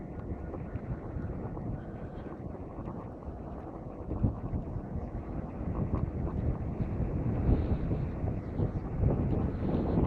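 Steady wind rushing over the microphone as an eBike coasts downhill on a country road, a constant loud roar that swells slightly toward the end, with no voices.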